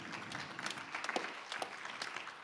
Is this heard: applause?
yes